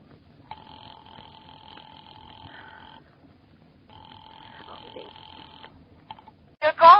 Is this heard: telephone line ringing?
yes